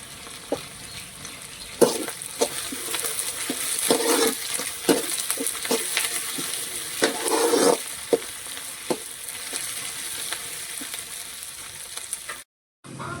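Garlic fries in hot oil for a village-style egg kulambu, a constant close sizzle broken by repeated sharp scrapes and clacks of a spoon stirring the pan, ending in a brief cut of silence.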